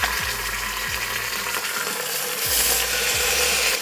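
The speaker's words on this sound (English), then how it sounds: "So what I'm gonna do is place my meat in there and just let it sear." Beef pieces sear in hot avocado oil inside an Instant Pot, giving a steady broadband sizzle with a few soft low knocks as the meat shifts, loud and close with no talking.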